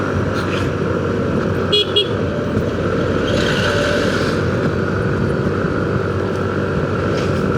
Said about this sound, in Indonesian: Nah, banyak truk besar teman-teman, kita dahuluin aja.